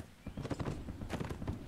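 Horse hooves clip-clop in the Mount & Blade Warband video game, a quick run of hoofbeats amid the noise of a cavalry battle.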